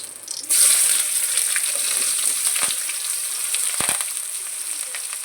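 Onion hitting hot oil in a pan bursts into a loud, close sizzle that holds steady with a bright hiss, broken by a few small pops and no talking.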